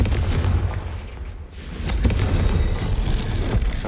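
Confringo spell blast in Hogwarts Legacy, a loud booming explosion that dips briefly and then swells into a second heavy rumbling burst, sustained and dense with no talking.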